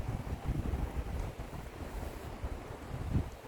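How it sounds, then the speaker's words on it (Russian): Gusty wind at Lake Seliger buffets the microphone with low rumbling bursts that rise and fall, with no voices. "Вот ветер."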